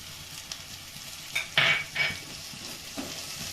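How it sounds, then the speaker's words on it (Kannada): Ginger garlic paste sizzles and fries in a pan for egg palak noodles, heard close with soft stirring scrapes and one louder burst of crackle near the middle, with no voices. "ವಾಸನೆ ಹೋಗೋವರೆಗೂ ಸ್ವಲ್ಪ ಹುರಿಬೇಕು."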